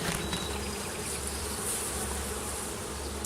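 Honeybees hum in a dense, continuous buzz around an open hive during an inspection, close and steady with no talking.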